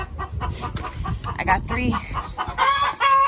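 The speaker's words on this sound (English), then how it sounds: "You guys want some chickens? I got 3 of them." Backyard hens cluck in short, close bursts, with a louder squawking call near the end, while a person talks over them.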